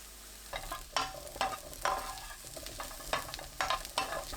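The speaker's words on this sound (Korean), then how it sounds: "팬에 식용유 1큰술, 마늘 넣고 약불로 볶아주세요." Garlic stir-frying over low heat in a tablespoon of cooking oil in a pan, soft continuous sizzling broken by a regular series of stirring clicks and scrapes, close but fairly quiet, no talking.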